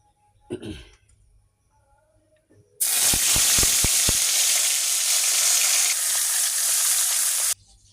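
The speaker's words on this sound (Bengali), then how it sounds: "এই যে তেলটা গরম হয়ে গেছে তো মাছটা দিয়ে দিব" Katla fish dropped into hot oil bursts into a loud, steady sizzle with a few sharp crackles at the start, following a brief throat-clearing; the frying runs close for several seconds and then cuts off.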